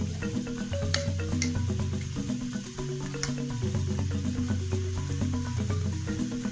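Chicken mince with yogurt and spices frying in a pan, a steady sizzle broken by scraping and stirring clatter, close and continuous with no talk.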